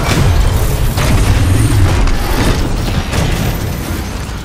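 A Titan landing in the first-person shooter video game Titanfall 2: a loud, heavy mechanical boom and crunch that stays as a dense rumbling roar, easing slightly toward the end, with no talking.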